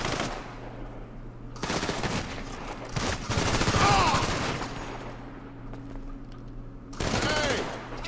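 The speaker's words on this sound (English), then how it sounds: "I got to shoot everybody again" Automatic gunfire from the video game GTA Online crackles in loud, sustained rapid bursts with a brief lull before another volley, and a voice comes through beneath the shooting.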